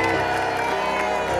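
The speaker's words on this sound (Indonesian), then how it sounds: "Tepuk tangan untuk Ruben Onsu" A television studio audience on an Indonesian comedy variety show cheers and applauds loudly. A steady, dense wall of crowd noise holds without a break through the short burst.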